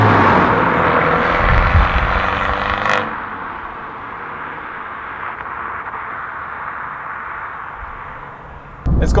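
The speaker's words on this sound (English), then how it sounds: "It's got sort of a bassy sound in lower revs, but then as you go through the revs, it becomes quite high-pitched and quite raspy." An Abarth 595 Competizione 180 exhaust gives a loud, raspy rev at first, then drops back to a softer, steady rumble before a brief sharp burst at the end.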